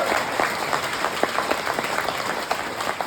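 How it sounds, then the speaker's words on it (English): Audience at a Brunswick County Democratic Party headquarters event claps for the county party chair, a short burst of dense, fairly close applause that holds steady throughout. "I want everyone to give a big round of applause to your Brunswick County Democratic Party chair"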